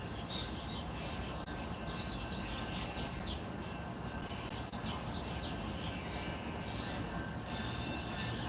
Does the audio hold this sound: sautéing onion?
no